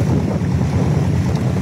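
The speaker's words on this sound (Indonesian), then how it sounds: "saat ini saya sedang berada di sebuah klotok untuk melakukan wisata susur sungai" A klotok river boat ride on the Kelayan river in Banjarmasin gives a steady low rumble of engine and water, with heavy wind buffeting the microphone throughout and no voices.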